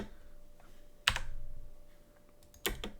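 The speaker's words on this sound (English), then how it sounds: "Man, I can't type tonight." Computer keyboard typing, quiet and close, with scattered key taps and two sharper bursts of clatter from a fast flurry of keystrokes.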